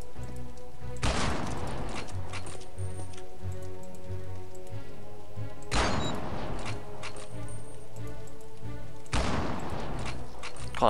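Gunshots in the game Land of the Dead, three loud separate cracks several seconds apart, each trailing into a short decay over a steady game music bed.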